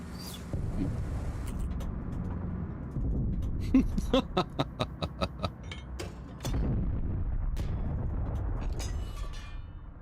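Tank cannon firing armour-piercing rounds in the video game Steel Aces, with a rapid series of sharp, loud reports over a rumbling engine drone, and a heavy blast later.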